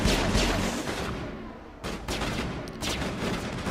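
Gunfire in the video game Mass Effect: dense, loud bursts of rapid shots fill the whole stretch, briefly easing mid-way before another volley, heard close with no talking.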